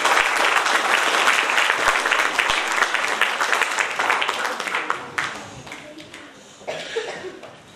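An audience at a 4 November commemoration in Agropoli applauds the police, steady dense clapping that slowly thins and fades over several seconds, with a cough or two and a few voices near the end.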